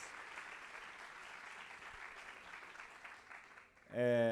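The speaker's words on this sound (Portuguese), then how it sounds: "Salva de palmas também para toda a equipe de tradução de Libras." Book fair audience applauding in a hall, a steady wash of many clapping hands that fades out just before a voice comes in.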